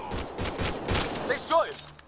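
A volley of gunshots from the video game Mass Effect Andromeda, heard as several quick, fairly loud blasts mixed with voices, then followed by a few short whooshing electronic effects.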